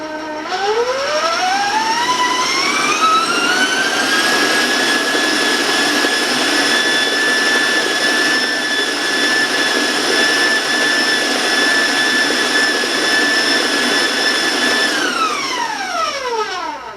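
An electric mixer beating cake batter on high whirs up to a loud, steady high-pitched whine, runs continuously, then winds down at the end.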